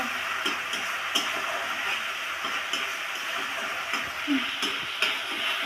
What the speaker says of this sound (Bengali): এবার আমি আরেকটু নেড়ে চেড়ে কষিয়ে নেব